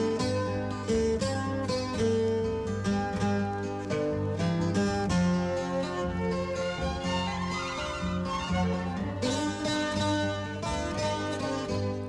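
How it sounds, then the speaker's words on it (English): A 12-string guitar plays a steady, shimmering instrumental from a 1963 recording, with full strummed chords and a melody line filling the whole stretch without any voices. "Yep, definitely a 12-string guitar there."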